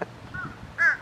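A gull gives one short harsh call near the end, clear above steady outdoor background noise along a shoreline at sunrise, with a boat stranded nearby.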